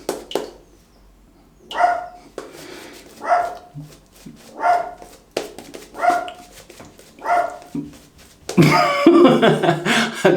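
A dog named Riley barking indoors, about six sharp, close barks at a fairly even pace separated by quiet gaps, then a louder burst of rough barking at the end.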